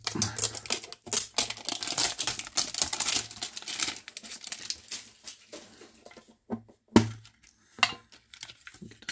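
Pokémon card mini tins being opened give bursts of close crinkling and crackling foil wrappers, with scattered clicks and taps. Quieter gaps follow, then a sharp snap near the end.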